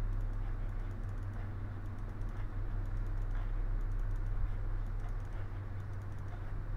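Faint, scattered keyboard and mouse clicks from someone playing the horror game Fazscare on a computer, sitting under a steady low electrical hum, with no talking.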